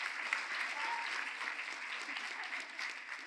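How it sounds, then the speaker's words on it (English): An audience at a school chapel service applauding students, dense even clapping heard from a slight distance and sustained throughout. "Go ahead, you can clap for them."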